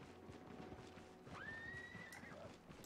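A horse in the video game Albion Online gives a short, rising whinny over soft clip-clop hoofbeats and game ambience, fairly close and clear.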